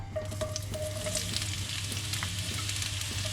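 Chopped onion sizzling in a generous pour of olive oil in a very hot pan, a steady close crackle and hiss with small pops throughout, no voices.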